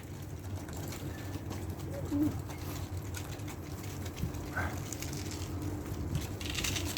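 Pigeons, including tumbler pigeons, eat scattered feed close by: soft coos and faint pecking rise over a continuous outdoor rustle, with no clear talking.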